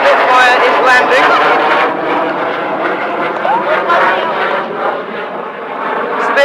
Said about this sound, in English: There's the Spitfire is landing.